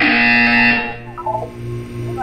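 A loud, harsh electronic buzzer in the video game Portal 2 sounds for about a second, then cuts off, leaving a quieter hum with faint tonal blips.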